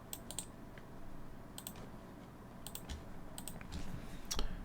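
A command is typed on a computer keyboard in a few quick bursts of crisp clicking keystrokes, close and fairly quiet, separated by short pauses with faint room hum between.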